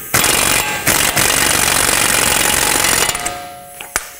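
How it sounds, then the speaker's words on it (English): An air impact gun hammers an axle nut down on a 2005-2010 Pontiac G6 front CV axle, a loud, close, rapid rattling burst of about three seconds with short pauses, ending in a few sharp clicks. "I didn't use the air gun to tighten it, I just used it to bottom it out quickly."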